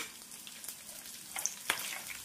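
Peanuts, green chillies and tamarind fry in a pan, with a soft steady sizzle and a few sharp crackles and pops near the end, quiet and close with no talk.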